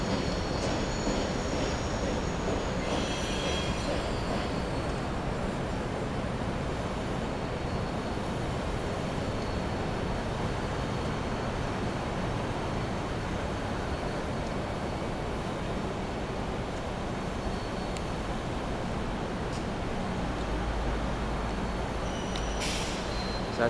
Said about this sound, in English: That's the second westbound I got today. Dash 9 and an SD40-2.